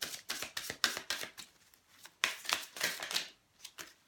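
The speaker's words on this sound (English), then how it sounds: "we're going to shuffle" Tarot cards being shuffled by hand, a close run of crisp riffling and flicking bursts in uneven clusters with short pauses between.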